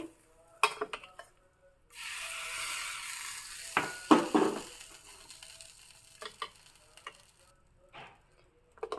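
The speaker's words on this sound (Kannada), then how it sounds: "ಎಣ್ಣೆ ಸಾಸಿವೆ ಇಂಗು ಮತ್ತು ಕರಿಬೇವಿನ ಒಗ್ಗರಣೆ ಹಾಕ್ತಾಯಿದ್ದೀನಿ" Oil with mustard seeds, asafoetida and curry leaves sizzles in a pan for a red chutney tempering, a soft hiss lasting about two seconds, followed by faint spoon clinks and stirring in a quiet kitchen.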